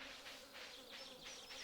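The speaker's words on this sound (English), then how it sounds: "Except for the buzzing, which sounds more like flies than bees." Steady insect buzzing like flies in a forest area of the video game Stardew Valley, a continuous faint drone with gently swelling waves and no voices.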